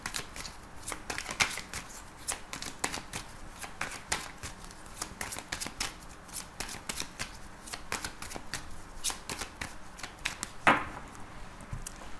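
Tarot cards are shuffled by hand in a quiet room: a close, continuous run of rapid papery riffles and slaps lasting several seconds. A brief sharper snap near the end could be the deck being cut.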